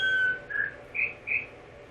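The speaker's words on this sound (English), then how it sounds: "sorry about the bird sounds. The bird sounds kind of make it hard to hear me" Birds whistle and chirp outdoors in a jungle setting, a long clear call followed by three short bright chirps at a steady pace, moderately close over a faint background.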